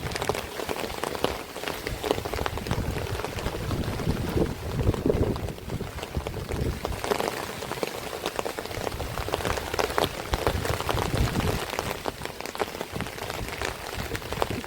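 Heavy rain pours steadily in Bangalore during the first summer thunderstorm, a dense continuous hiss of drops on surfaces with gusts of wind mixed in, loud and close throughout.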